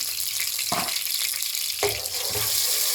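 Ginger and garlic frying in oil in a degchi cooking pot, a steady hiss and sizzle throughout with a couple of louder bursts as the pieces hit the hot oil, no talking.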